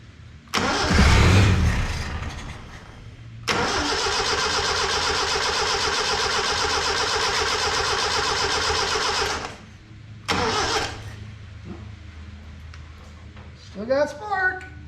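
A vehicle engine cranks and catches, then runs loudly at a steady idle for several seconds before cutting off. A shorter second burst follows, with brief voices at the start and end.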